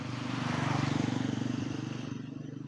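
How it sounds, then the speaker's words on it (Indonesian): A motorcycle engine passing behind hums steadily nearby, its pulsing drone holding for a couple of seconds before easing off slightly at the end. "Nah, ini ada suara motor di belakang ya guys ya"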